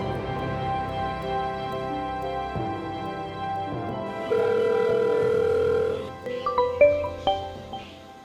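Tonal electronic beeps and a steady telephone-like tone, followed by a few short chirping rings, fairly clear with no talking.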